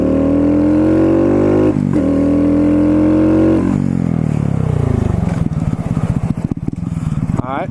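A motorcycle rolls at about 30 mph for a stoppie, its engine revving loudly then dropping off into a rough, pulsing idle as it slows, with a voice talking over the start.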